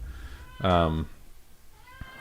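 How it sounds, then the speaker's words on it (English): A cat crying at someone's feet indoors gives a single loud, drawn-out meow lasting about half a second, followed by quiet with a faint short sound near the end. "I hear you, kitty cat. Sorry. She's at my feet crying but not letting me pet her."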